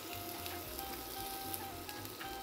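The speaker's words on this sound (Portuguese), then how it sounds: "Nós vamos fritar as almôndegas, dar uma seladinha nas almôndegas primeiro." Meatballs sear in a hot pan with a constant dense sizzle and crackle, loud and close, without any voices.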